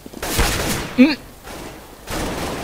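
Rapid gunfire bursts in Counter-Strike: Global Offensive, close and punchy in short volleys, heard under an excited player talking over the shots.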